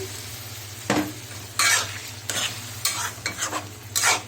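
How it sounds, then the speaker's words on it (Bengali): A spoon scrapes and stirs prawn masala sizzling in a pan as a little water goes in, the sizzle running underneath a series of bright, close scraping strokes at irregular intervals. "এখন এটাকে আমি অল্প একটু পানি দিয়ে দিচ্ছি"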